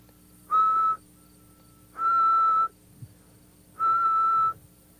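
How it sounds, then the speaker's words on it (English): Three sustained whistled notes at a steady pitch, each about half a second to a second long, separated by short pauses, close and clear, practising the air pressure for a Canada goose call. "What I want you to do at this point is whistle like this."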